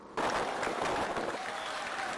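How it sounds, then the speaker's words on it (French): Welcoming crowd in Guinea cheering a presidential motorcade, a loud dense roar of cheers and applause starting abruptly and holding steady. "le cortège présidentiel est acclamé par une foule venue souhaiter la bienvenue en terre africaine de Guinée à l'hôte de marque"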